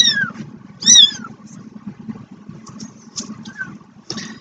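Two-week-old kittens give a few high, thin meows close by: two in quick succession at the start, then fainter squeaks over a low rumbling background.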